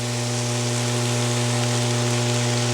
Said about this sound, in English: I'm gonna give it a stir so that it sautés with the vegetables